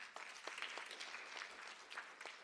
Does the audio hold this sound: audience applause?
yes